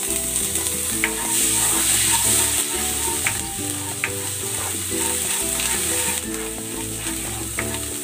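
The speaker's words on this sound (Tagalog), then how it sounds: "Igigisa ko na tong bawang" Garlic and ginger sautéing in hot cooking oil in a pan, a continuous bright sizzle with occasional pops and clinks of a utensil, close and steady throughout with no talking.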